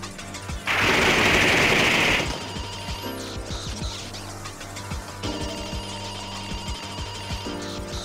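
Rapid machine-gun fire from the PS2 game Demonbane bursts out loudly for about a second and a half, followed by scattered single shots and clanks over a steady background of game music.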